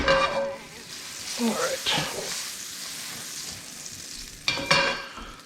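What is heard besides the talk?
butter melting and sizzling in a pan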